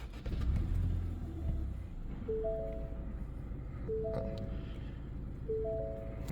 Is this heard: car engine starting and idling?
yes